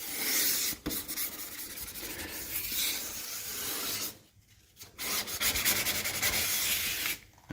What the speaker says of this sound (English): That's blocking. It's wet sanding.